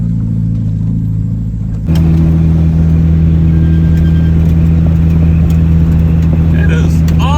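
An old vehicle cruises on the road at about 55 to 60 miles an hour, its engine a loud, steady, droning rumble heard from inside a noisy cabin, jumping louder after a couple of seconds and holding constant.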